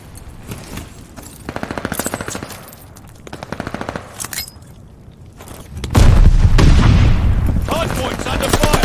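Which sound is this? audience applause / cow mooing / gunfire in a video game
gunfire in a video game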